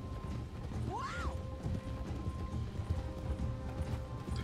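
Horse hooves clip-clop at a steady walking pace in Red Dead Redemption 2, with a brief whinny near the start, all fairly quiet beneath a low game-ambience rumble.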